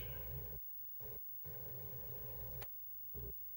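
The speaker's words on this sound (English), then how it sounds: "that is the sound of a Datasette" A Commodore Datasette cassette drive running on a vintage Commodore PET: a harsh, buzzing tone broken into bursts by short gaps, with one sharp click near the end, all at moderate loudness with no voices.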